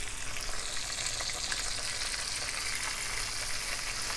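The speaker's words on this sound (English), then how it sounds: "I'm looking for a nice sizzle here." Chicken fries in a hot pan with a steady, dense sizzle and faint crackling that holds evenly throughout, heard close up with no talking.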